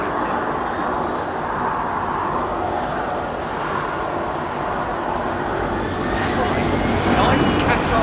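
A Qatar cargo jet at London Heathrow rumbles steadily at a distance, a broad engine roar lasting throughout and swelling slightly toward the end.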